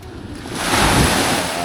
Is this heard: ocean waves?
yes